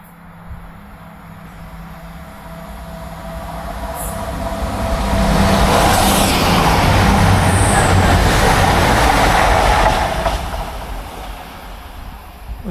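A train approaches and roars through Alfreton railway station at speed without stopping, with a loud rushing rumble and rattling wheels, then fades away as it passes.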